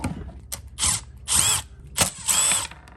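Power drill backing two screws out of a weed eater casing during servicing, in several short whirring bursts of rising and falling motor pitch with brief pauses, close and alone.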